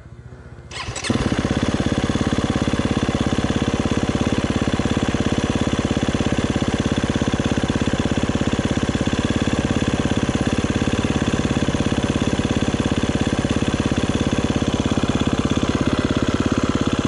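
A 250cc scooter engine catches after a brief start and settles into a steady, loud, close idle hum that holds without change to the end.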